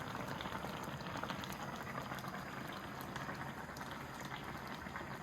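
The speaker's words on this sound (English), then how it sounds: "See, it's really boiling." Korean military stew (budae jjigae) boils in a pot, giving a steady, close, quiet bubbling and popping that continues evenly throughout with no talking.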